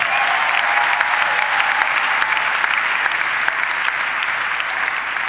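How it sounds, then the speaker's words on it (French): A church congregation applauds loudly and continuously throughout, a dense wash of many hands clapping at a worship service with no speech over it. "Acclame le Seigneur très très fort."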